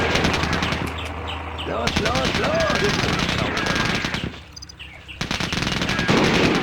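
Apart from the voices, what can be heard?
Katyusha rocket launcher firing in video game Sudden Strike Forever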